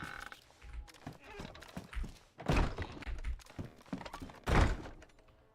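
Ammunition being loaded into gun magazines in a video game, a series of soft thunks and clicks in uneven bursts, fairly close, with short pauses between rounds.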